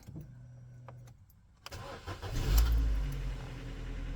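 Car engine cranking and catching after an oil change, starting from near quiet into a swelling rumble that settles into a steady idle close by.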